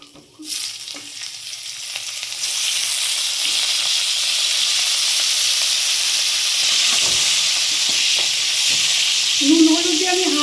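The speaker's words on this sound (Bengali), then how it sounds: "তো ফুলকপিগুলো ভাজা হয়ে গেছে।" Cauliflower frying in oil, a loud, sustained hiss and sizzle that swells in after a brief quiet start and runs steadily, with a few faint scrapes near the end.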